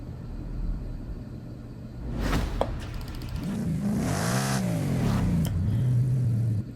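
A Ford Raptor R truck in Forza Horizon 5 cranks and fires up, then revs hard with rising and falling engine sweeps, a loud close rumble that settles into a steady idle.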